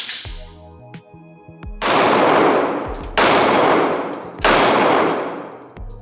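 A Springfield XDM Elite Compact pistol fires .45 ACP rounds: three loud, sharp shots about a second and a half apart, each leaving a long ringing decay, after some lighter metallic clinks at the start.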